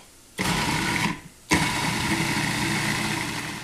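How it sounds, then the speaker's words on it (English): A loud blender motor whirs up, cuts out briefly, then roars back on and runs steadily, churning tomatillos into a puree at high speed nearby. "We'll blend this till it's nicely pureed."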